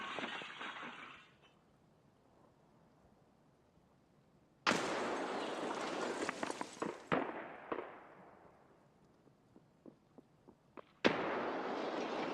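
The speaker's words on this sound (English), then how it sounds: "I'm gonna toss a grenade" A grenade going off in the video game Escape from Tarkov: a sudden loud blast followed by a long, crackling rumbling decay with scattered debris-like pops, then a second sharp burst near the end; no talking.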